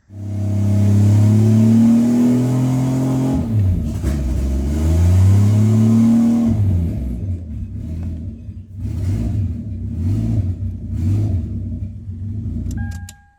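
Lexus IS300 NA-T build engine on its first start-up, with a loud rumbling idle that rises and falls through several revs, then a sequence of short throttle blips over the settled idle, all close by.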